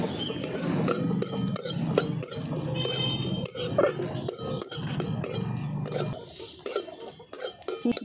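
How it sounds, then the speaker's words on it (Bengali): Whole cumin, fennel, nigella and dried chillies dry-roast in an oil-free kadai, stirred with quick, irregular metallic scrapes and clinks of a spoon against the pan. "এবার এই শুকনো কড়াটার মধ্যেই আমি এই মশলাগুলোকে একটুখানি ভেজে নেব"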